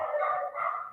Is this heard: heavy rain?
no